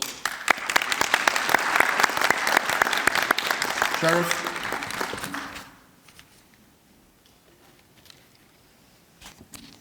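An audience at an end-of-year crime statistics press conference breaks into steady applause for several seconds before it fades to near silence, with a voice briefly heard over the clapping.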